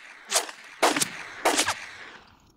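A sniper rifle fires during a live-fire drill: three sharp, loud reports spaced about half a second apart, each with a short echoing tail, and no talk.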